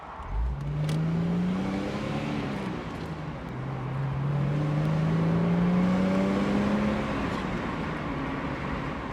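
The V12 engine of a 1994 Jaguar XJS convertible with a 5-speed manual revs and accelerates, its pitch climbing in rising sweeps as it pulls away, then a second strong surge, loud and nearby.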